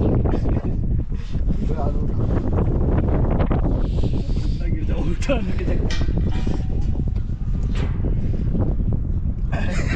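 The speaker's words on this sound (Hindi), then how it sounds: "अभी आप लोगों को बस एक ही आवाज़ आ रही होगी हवा की, बहुत तेज हवा चल रही है" A strong, cold wind on top of a tall radio tower in India buffets the microphone with loud, continuous roaring gusts, while people talk underneath.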